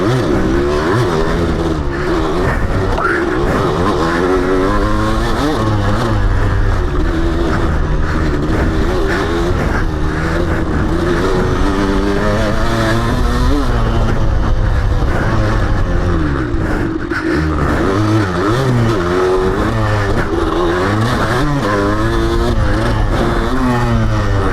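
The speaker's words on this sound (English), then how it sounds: "Oh yeah, it's a trail bike." A 1994 Kawasaki KDX 200 two-stroke trail bike revs and pulls hard through a continuous ride, the engine note rising and falling in steady waves, close and loud throughout with wind noise.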